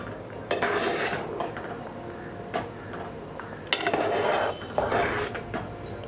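A spoon stirs curry leaves into a pot of ripe mango curry, with scraping and clinks against the metal in a few loud bursts over a soft simmer, close by and without voices.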